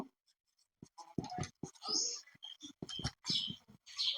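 Pen scratching on paper in short bursts of scribbled strokes, close and clear with brief pauses between them, as numbers and a label are written out by hand; no speech.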